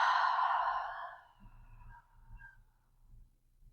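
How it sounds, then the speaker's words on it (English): A person breathes deeply during a yoga practice, giving one long, airy exhale that fades out, then a soft, low breath at close range. "let's breathe in through the nostrils and exhale out through the mouth"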